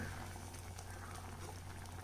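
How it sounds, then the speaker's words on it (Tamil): Bottle gourd buttermilk curry simmers at a steady boil in a pot, giving a continuous close bubbling and popping patter with a low hum underneath and no talking. "இப்போ இது ஒரு கொதி வந்துடுச்சு, நல்லா கொதிக்கிட்டோம்."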